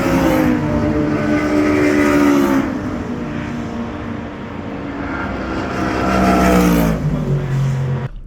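Race cars roar past at the Nürburgring 24-hour race, loud high-revving engines rising and falling as several cars sweep by in turn, with shifting pitch as each passes and fades.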